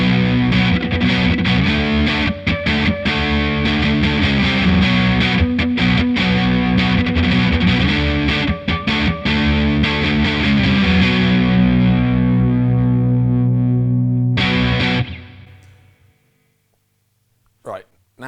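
A Wampler Sovereign distortion pedal on full gain in its standard mode, driven by an electric guitar, plays a loud, sustained, dense chord riff for about fifteen seconds, then rings out and fades, followed by a brief pick noise.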